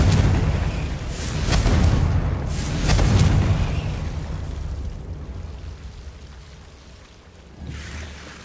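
A blasting spell, Confringo, explodes in a magic video game with a deep rumbling boom that swells twice in the first few seconds, then fades into a low roar with a small late thump, no talk.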